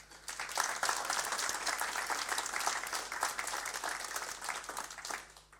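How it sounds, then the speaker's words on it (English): Sustained applause from a hall audience honouring mental health first aiders at a workplace colleagues' awards ceremony in Nuneaton, steady dense clapping rising quickly and tapering off at the end. "let's try and give a round of applause to them, please"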